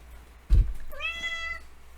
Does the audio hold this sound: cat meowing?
yes